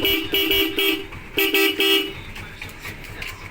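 A dual-tone horn on a Keeway Icon 110 motorcycle honks in two rapid bursts of several short beeps each, loud and close, with a faint hum of surroundings after.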